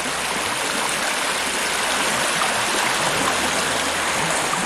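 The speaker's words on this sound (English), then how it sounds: "There's the water going down there" Water in a stream flowing beneath a bridge in Canada, a loud, steady, close rushing and babbling that continues unbroken with no voices.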